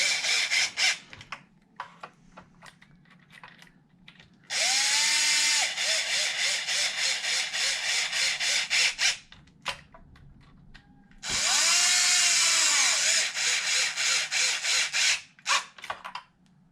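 A power driver runs screws into a Traxxas XMAXX RC truck in two long, loud whirring bursts that rise and fall in pitch, with clicks and handling noises between.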